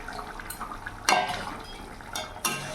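Fried silver carp pieces dropped into a pan of curry with cauliflower and potato, heard as a few quick splashes and utensil clinks over a quiet simmer.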